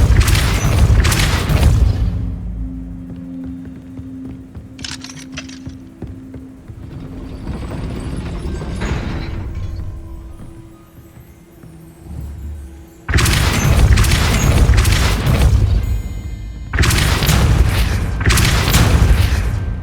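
Heavy booming impacts of the Depulso spell in Hogwarts Legacy, loud thudding blasts in two clusters separated by a quieter stretch of lighter magical effects.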